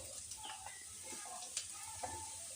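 Ridge gourd sizzles softly in a pan with browned onions, a low steady frying hiss broken by a few faint clicks of stirring; no voices.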